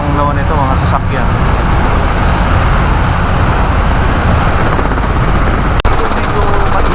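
A ferry's loud, constant engine rumble fills the space, with a voice talking at the start and a sharp click near the end.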